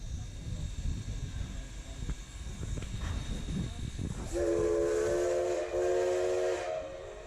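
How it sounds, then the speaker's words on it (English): Two short blasts from the whistle of steam locomotive No. 25 ring out before it departs on an Oregon coast excursion line, loud and shrill after a low rumble of idling engine and hiss. "the engineer gives 2 short blasts on the whistle of the 25, and the train departs"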